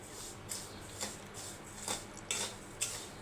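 Sugar being stirred into hot ghee in a pan for tomato barfi, with a spoon scraping and tapping the pan in soft, evenly spaced strokes, about six of them, quiet and close with nobody speaking.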